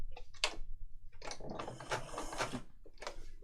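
A sewing machine stitching a wide zigzag, quiet close mechanical clatter in short bursts with brief pauses between runs of rapid ticking needle strokes.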